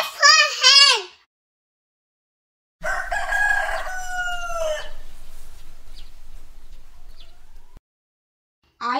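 Hen and rooster sounds: a short wavering cluck-like call, a pause, then a long loud rooster crow that trails off into silence.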